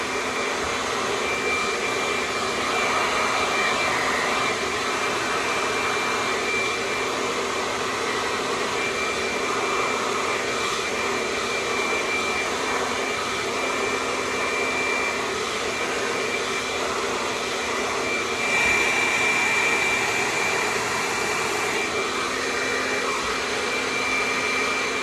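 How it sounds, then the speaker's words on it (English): A hair dryer fitted with a diffuser hovers over curly hair at the roots, blowing a steady, loud, continuous whoosh for the whole stretch with only slight shifts in pitch as it moves around the head. "I will hover over like this and dry the roots like this"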